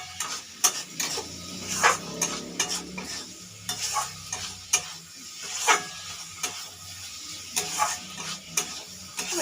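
Mushrooms sautéing in a pan over raised gas heat, a low sizzle under frequent sharp clacks and scrapes of a spatula stirring in an irregular rhythm.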